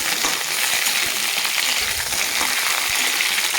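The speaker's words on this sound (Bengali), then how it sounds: "আমার পটলটা মোটামুটি ভাজা হয়েছে" Pointed gourd (potol) frying in oil, a steady close crackle and sizzle that holds throughout with small pops and scrapes, no voices.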